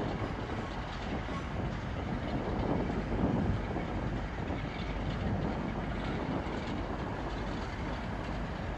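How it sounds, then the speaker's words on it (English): A London Northwestern Railway Class 350 electric train pulls into Crewe station on the West Coast Main Line, a steady broad rumble with faint wheel clatter and wind noise throughout. "Making her way in now will be a terminating London North Western Railway service from London"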